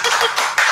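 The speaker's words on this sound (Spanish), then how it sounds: "Gracias por esos aplausos." A brief burst of audience applause at a tango day literary event, dense close clapping that swells again at the end.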